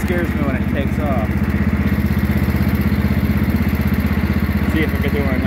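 Wheel Horse 312-8 lawn tractor engine running steadily up close, a loud continuous low rumble with a regular throbbing pulse and some clatter, with faint background sounds.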